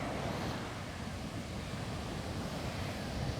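Sea waves wash steadily onto Kollam beach, a dense continuous roar of surf mixed with wind buffeting the microphone, with no speech.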